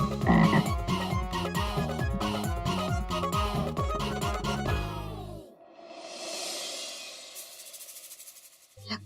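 A frog croaks in a loud, rapid, rhythmic series for several seconds, then falls silent, followed by a fainter hiss and murmur.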